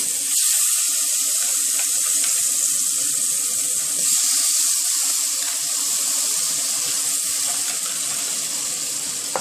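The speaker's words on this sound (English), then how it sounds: "I'm going to put my fruit in to cook just a little" Fruit cooking in butter in a pot gives a steady, loud sizzle and hiss that runs without a break, with no voice over it.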